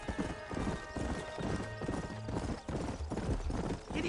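Horse hooves clip-clop in a steady galloping rhythm in the Red Dead Redemption video game, loud and close, with music and faint game sounds underneath and no speech.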